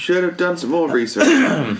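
A throat is cleared a few times in quick, rough bursts, close to the listener, with voiced sounds mixed in.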